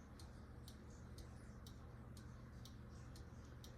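A clock ticks steadily at an even rhythm, faint and distant under a low background hum.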